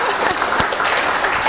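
An audience at a California pizza contest breaks into a short burst of steady, fairly close applause.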